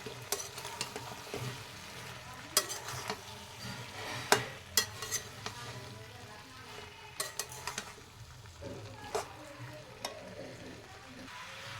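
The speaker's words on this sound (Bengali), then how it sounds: "এবার আমি এখানে ভেজে রাখা চিকেনগুলো ঢেলে দেব, দিয়ে আবারও ভালো করে নাড়িয়ে নেব সবগুলো একসাথে" Fried chicken tossed with onion and capsicum in a pan for chili chicken, a quiet sizzle under frequent clinking spatula strokes against the pan, irregular and close.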